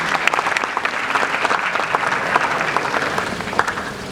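An audience at an Easter church gathering applauds after a Papuan ethnic dance performance, giving sustained, loud, dense clapping that stays even throughout.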